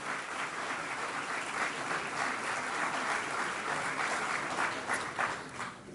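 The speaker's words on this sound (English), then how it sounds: "So let's give a round of applause to all the alumni in attendance." At a high school graduation ceremony, the audience applauds attending alumni with a full, steady roar of clapping from a large crowd, holding even for six seconds with no talk over it.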